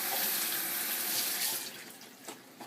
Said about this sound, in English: Our lovely Santa Sweet grape tomatoes, we're just going to give those a quick rinse.